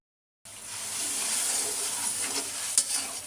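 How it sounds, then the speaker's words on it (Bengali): Spice paste of ground onion and chili fries in a pan, giving a steady, moderately quiet sizzle with soft stirring scrapes throughout, and a small pop near the end. "মাছের মশলাটা কষিয়ে নিচ্ছি"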